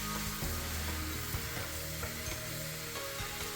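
Beef and onion sizzle steadily in a pan while being stirred, a constant close frying hiss with faint scraping stir sounds throughout.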